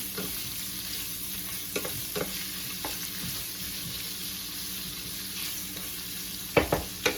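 Ham frying in a pan for carbonara, a steady close sizzle with occasional stirring scrapes and a few louder clacks near the end, no voices.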